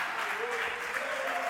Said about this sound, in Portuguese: levanta as tuas mãos, aplauda o Senhor